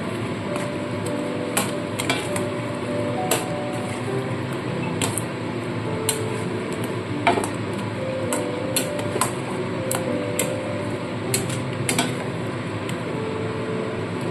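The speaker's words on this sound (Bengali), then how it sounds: "নারকেল বাটাটা দিয়ে দিলাম দিয়ে ভালো করে মিশিয়ে নেবো" A spatula stirs ground coconut paste into a pointed gourd curry in a pan, producing repeated light scraping clicks and taps over a steady background hum, close and continuous, with no talking.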